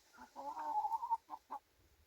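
Chickens in a farmyard cluck in a short burst of calls, followed by two brief clucks, close and moderately loud with no talk over them.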